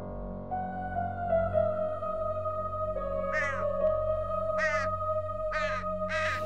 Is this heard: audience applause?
no